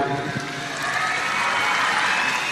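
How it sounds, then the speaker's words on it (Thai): An audience at a school performance claps for performers and teachers, giving dense, steady applause that swells slightly and stays loud throughout. "ขอเสียงปรบมือดังๆให้กับนักล่าฝันและคุณครูครับ"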